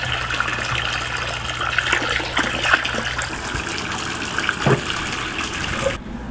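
Water from a fish tank draining through an aquarium siphon, a steady close gush and trickle that runs continuously for several seconds before cutting off abruptly near the end.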